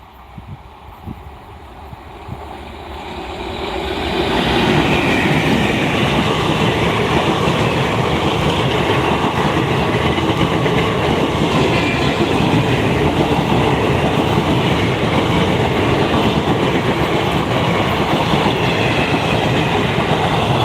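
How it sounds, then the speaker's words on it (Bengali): A WAP-4 electric locomotive hauls an Intercity Express train into Balagarh through paddy fields; a loud, steady rumble and clatter of wheels on rails builds within a few seconds and then rolls on continuously close by. "ইন্টারসিটি এক্সপ্রেস বলাগড় ঢুকছে"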